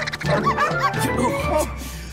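Cartoon dogs in an animated Mr Bean episode bark and yip in a short burst over a low rumbling background, with a voice talking alongside.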